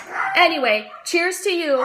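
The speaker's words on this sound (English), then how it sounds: "That's my dog barking in the background." A dog barks and yips in the background, several short bursts partly masked by a voice speaking over them during a casual happy-hour toast indoors.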